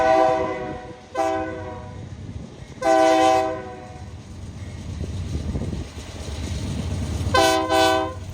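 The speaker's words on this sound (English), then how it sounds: "we ended up catching a meet with a manifest train going the other direction" A manifest freight train rumbles steadily past nearby in Wyoming, with loud horn blasts sounding in several bursts over the continuous rolling and clatter of the cars.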